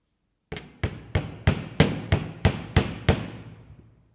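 A jewellery hammer taps on wire in a run of about nine crisp, evenly spaced strikes, close and clear against silence, each one ringing briefly before the next.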